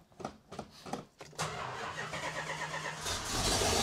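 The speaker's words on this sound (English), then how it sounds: "Start them up just to make sure they keep running?" A Plymouth muscle car's 440 Six Pack V8 cranks several times with rhythmic starter chugs, then catches and settles into a loud, lumpy idle that swells toward a rev at the end, close by.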